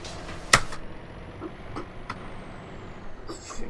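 A truck in Euro Truck Simulator 2 lets out a sharp, loud air-brake burst near the start, followed by faint clicks and low engine rumble, then a shorter hissing release at the end.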